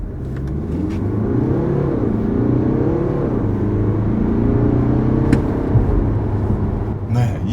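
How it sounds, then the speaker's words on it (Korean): A BMW 523d's four-cylinder diesel engine drones from inside the cabin as the car accelerates in drive mode, with a low, steady rising hum and a gear change partway through. "엔진 소리를 들어보셔도 아시겠지만 뭔가 4기통 디젤의 그 사운드라기보다는 좀 괜찮아요"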